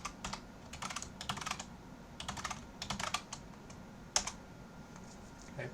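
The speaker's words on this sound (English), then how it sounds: "It's going to ask me for my current password, so type that in, and then a new password, and then retype the new one." Someone types a password on a computer keyboard, with several short clusters of quick, soft keystrokes separated by brief pauses and one sharper key press near the end.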